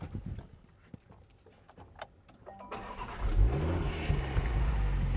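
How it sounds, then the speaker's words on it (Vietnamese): A 2020 Range Rover Sport with an inline-six engine starts up after a few seconds of quiet clicks and taps, then settles into a loud, steady low idle that continues to the end. "Bây giờ mình sẽ để nổ máy lên, bật đèn, mở nắp động cơ cho các bạn xem nhé."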